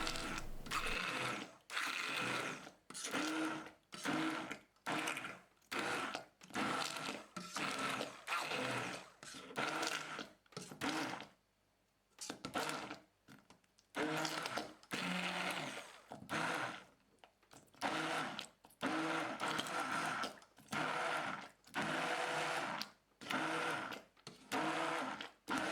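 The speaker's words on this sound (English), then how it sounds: "I'm gonna use now the immersion blender to transform them in an apple" Loud whirring motor bursts pulse on and off repeatedly, a short gap midway, then resume in steady rhythmic pulses, as an immersion blender purees cooked apples.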